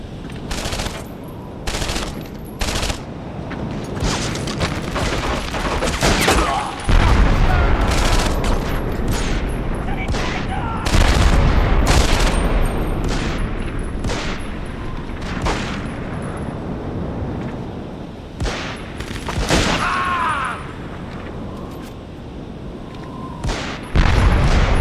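Battle gunfire in Medal of Honor Vanguard: loud, continuous machine-gun bursts and rifle shots with heavy booms of artillery, dense and sustained throughout with brief gaps.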